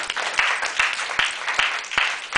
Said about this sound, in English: clap your hand to give God praise